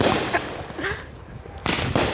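Fireworks burst close overhead in a quick pair of sharp cracks and pops, with a louder crackling burst near the end, outdoors and alone without talk.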